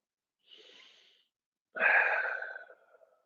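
Deep breathing during a vinyasa yoga pose: a soft airy inhale, a short pause, then a louder, longer exhale that trails off, close and quiet.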